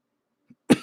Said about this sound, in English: I'm so sorry for the coughing, everyone.